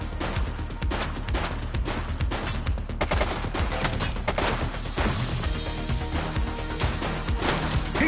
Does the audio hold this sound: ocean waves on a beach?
no